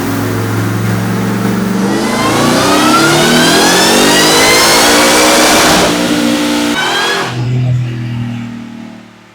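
A supercharged Ford Raptor R engine with a ported blower is revved hard on a dyno in select shift to about 7,100 RPM. It is loud and close, a rising whine and roar that climbs steadily before dropping off sharply to a lower idle.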